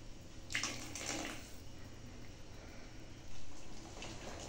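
Hot water poured into a pot of thin fish curry with vegetables, a close rushing splash that swells briefly, then a softer steady flow and a second surge, with no speech.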